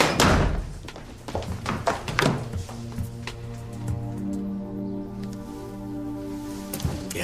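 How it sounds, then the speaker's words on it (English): A door slams shut in a couple of sharp, loud thuds near the start, followed by scattered knocks and a lingering tonal hum. "Shut the door, then run for it."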